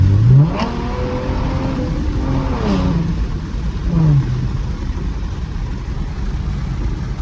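A 2014 Ford Mustang V6 accelerates hard from inside the cabin, its engine note climbing and dropping through several gear shifts, loud and close over steady road noise.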